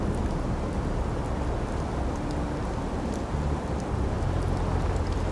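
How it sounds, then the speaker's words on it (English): Steady, heavy thunderstorm rain in the game The Flower Collectors, a dense, even wash of downpour pattering on surfaces, loud and continuous throughout, with no speech. "What are you doing standing around in the middle of a thunderstorm?"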